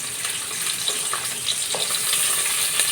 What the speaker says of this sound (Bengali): এখন আমি এই যে পেঁয়াজ কুচি দিয়ে দেবো, সাথে এই যে কাঁচামরিচ দিয়ে দেবো।